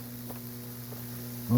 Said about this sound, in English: I wonder what that humming noise was.